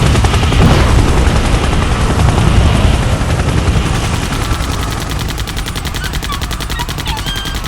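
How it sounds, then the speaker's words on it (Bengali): Dense, rapid bursts of machine gun fire roar continuously over a rumbling low drone, loud at first and easing slightly toward the end. "মেশিন গানের শব্দ"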